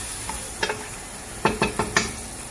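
Onions sizzle faintly in a pot, with a few soft stirring scrapes and light clinks spaced through the quiet hiss. No one speaks.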